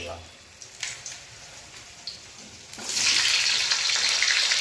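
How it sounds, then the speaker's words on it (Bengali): Raw potatoes dropped into hot oil in a pan for a home-cooked goat meat curry with whole spices, setting off a loud, steady sizzle that swells suddenly after a few quiet seconds of light clatter. "গরম তেল হয়ে গেছে, আলুগুলো দেবো।"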